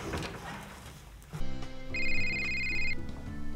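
A telephone rings in a short electronic burst partway through, loud and close, following a stretch of dialogue-like background sound in a staged comedy scene about a sales call.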